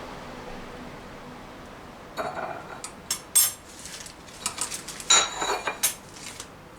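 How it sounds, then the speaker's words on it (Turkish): Spoon scraping and clinking in a bowl while cookie dough for candy-studded cookies is stirred with cocoa mixed into the liquids, quiet at first, then a run of irregular knocks and scrapes. "Şimdi karıştırıyorum."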